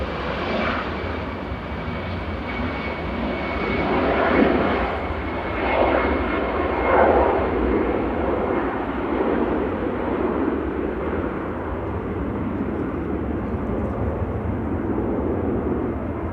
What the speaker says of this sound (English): This is EasyJet 7002 to Malaga.